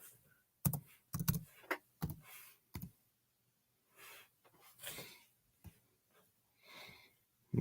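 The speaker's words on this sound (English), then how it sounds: "But I can type it out the hard way." Keys clacking on a computer keyboard in a quiet room, typed in short irregular bursts of sharp clicks with pauses between them, no talking.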